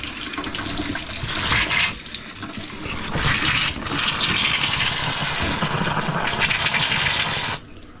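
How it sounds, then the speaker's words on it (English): Water gushes from opened faucets in a camper RV on a pressurised supply system, a loud continuous hissing rush that surges and eases, near and alone. "Go to each faucet"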